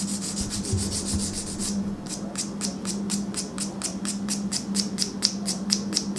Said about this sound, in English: These three-way buffers are nice because they really do take care of a lot with the nail.